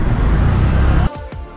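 Steady, loud road traffic rumble from cars in a busy market area of Magam, Kashmir, close by for about a second before abruptly dropping to a quieter hum with a brief passing swell.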